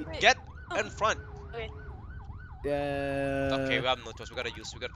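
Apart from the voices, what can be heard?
ambulance siren in Roblox Jailbreak video game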